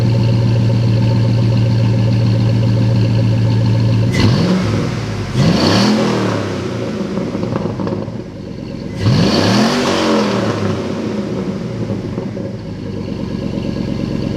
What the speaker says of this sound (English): It's a single exit catback exhaust.